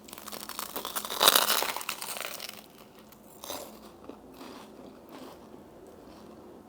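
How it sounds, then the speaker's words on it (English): Crunchy air-fried banh mi bread is bitten close up, giving a loud crackling crunch, followed by quieter crinkling and chewing sounds. "So I air fried this, and let's hear the crunch."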